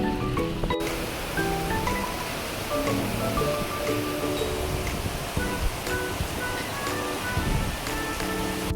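Rain pours down outdoors on a city street, a dense, steady hiss of drops on surfaces with scattered traffic and motor sounds blended underneath.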